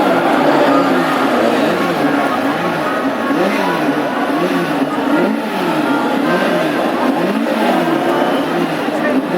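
Classic hot rod race cars rev together at a clutch start in an East Anglian Championship final at Ipswich, a loud, dense roar of engines with rising and falling revs, under commentary.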